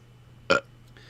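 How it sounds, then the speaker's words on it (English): A single short, loud burp sounds up close in an otherwise quiet room, followed by a faint trailing noise. "That's my burp hello for everyone."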